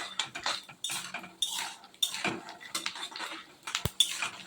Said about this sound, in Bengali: বাদামগুলি একটু অল্প আঁচেই ভাজতে হবে, নাহলে পুড়ে যাবে আর ভাজাও সুন্দর হবে না